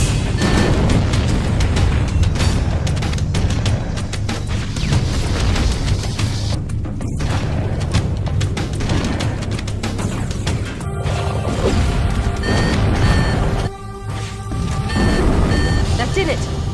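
Engine reactors explode aboard a ship in Halo: Combat Evolved, a long run of loud, dense booms and crashes with alarm-like beeping tones woven through, briefly dropping out before resuming.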